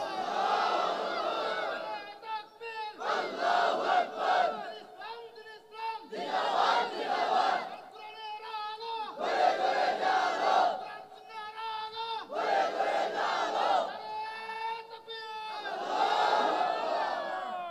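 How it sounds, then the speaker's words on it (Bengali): A large crowd roars a chanted takbir in unison, several loud sustained collective shouts in a rhythmic call-and-response pattern, each swell of many voices rising and falling across the gathering at a religious sermon. "মুসলমান আওয়াজ একটা তাকবীর দাও জোরে"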